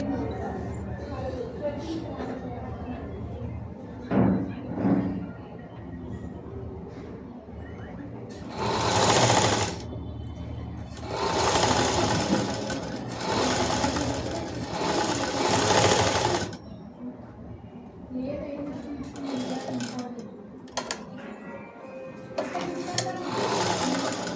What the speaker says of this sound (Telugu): డబల్ కుట్టు వేసుకోవాలి పెద్దది కుట్టినప్పుడు.